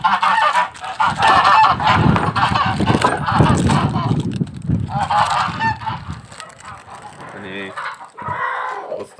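Domestic geese honk loudly and close by in repeated bursts on a farm where they are fed layer feed, with a few softer calls near the end.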